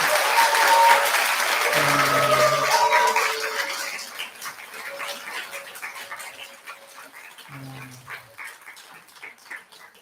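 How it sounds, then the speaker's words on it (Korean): Worshippers at a Buddha's Birthday service clap for the head monk of the temple, a loud burst of applause that fades over several seconds while faint tonal sounds drift underneath. "우리 주지스님한테 큰 박수 한번 부탁드립니다."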